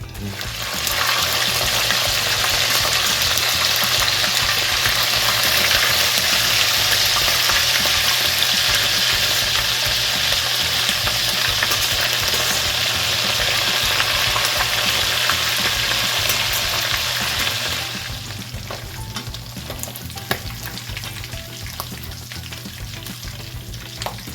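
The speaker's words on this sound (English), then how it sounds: "I got some more to fry. Another batch." Turkey pieces fry in hot oil in a loud, steady sizzle for most of the stretch, then the crackle drops to a softer, quieter bubbling near the end, with no voices.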